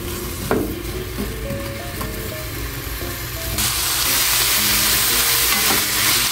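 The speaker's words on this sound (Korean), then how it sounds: "양파와 머잇대를 볶아줄게요." Onion and butterbur stalks stir-fry in a pan over medium heat, a loud continuous sizzle that grows fuller midway, with occasional utensil clinks over a low background hum.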